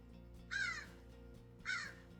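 Two loud, harsh crow caws ring out from birds outside, about a second apart, over a quiet low background hum.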